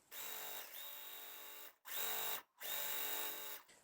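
A sewing machine chain-pieces quilt block pieces in three quick, steady runs of high whirring stitching, separated by short pauses, fairly faint and close with no talking.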